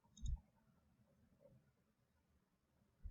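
Computer mouse clicks, two short sharp taps, one near the start and another near the end, quiet and isolated against a faint room background.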